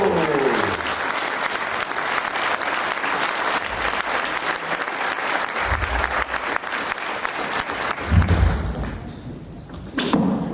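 Loud, sustained audience applause for a band at a charity gala, a dense clatter of clapping running about eight seconds before thinning, with a few heavy thumps near the end.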